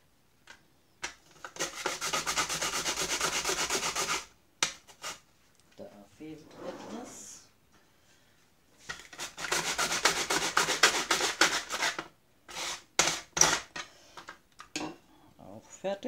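An onion is cut with a kitchen chopping tool while pumpkin soup is being made, giving long stretches of rapid, rasping, scraping strokes with short pauses, brief clicks, and some nearby talking.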